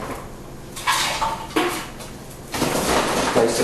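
A metal chip pan set down onto the heater of a homemade cold smoker, giving three separate clanking, scraping metal contacts spread over a few seconds, close and fairly loud with no talk.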